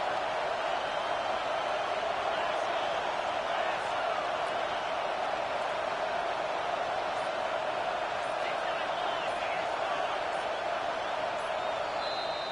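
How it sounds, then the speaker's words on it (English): A stadium crowd at a Texas A&M football game roars steadily and loudly throughout, one continuous wall of massed voices with no break. "this crowd trying to help keep them there"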